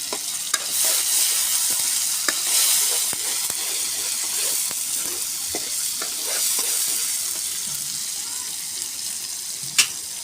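Garlic and tomatoes sizzling in a pan while being stirred for dal bati, a steady loud fry with repeated scraping and clinking of a spoon against the pan, plus a sharp knock near the end.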